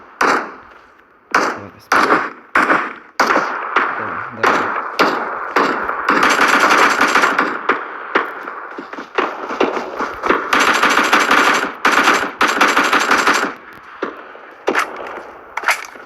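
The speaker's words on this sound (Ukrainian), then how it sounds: "ще десь далеко стріляє" Loud bursts of gunfire in PUBG Mobile, first single sharp shots, then long sustained automatic volleys, ending with a few scattered shots.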